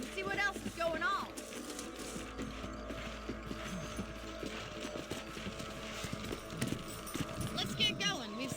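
Hooves clip-clop steadily from horses being ridden in the Western video game Red Dead Redemption, rhythmic and moderately close over several seconds, with creaking tack and game voices talking over them throughout.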